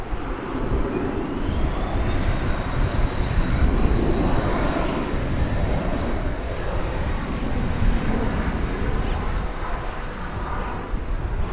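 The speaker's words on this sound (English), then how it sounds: "There's the Qatar triple making its way over to Terminal D." A Qatar Airways Boeing 777 taxis toward Terminal D at DFW airport, a steady, distant jet engine rumble that holds at one level throughout.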